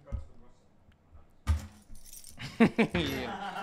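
A bunch of house keys jangles in short, bright metallic bursts, close and loud, following a quiet stretch, with people talking around the rattling.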